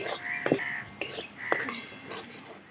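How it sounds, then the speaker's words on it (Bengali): Masala with chili powder being sautéed in a pan for a vegetarian soybean curry, soft frying hiss under a few sharp clinks and scrapes of a utensil against the pan, roughly one per second. "মশলার সাথে আমি লঙ্কার গুঁড়োটাও খুব ভালোভাবে কষিয়ে নিচ্ছি"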